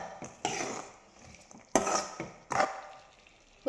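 A carrot and bean stir-fry is stirred in a pan after salt is added. Three or four loud, close scraping strokes of a spoon against the metal come with faint sizzling between them, and there is no talk.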